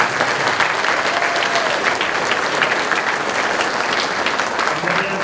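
An audience at a high school scholar awards ceremony gives students a sustained round of applause, with dense, even clapping filling the room and faint voices underneath.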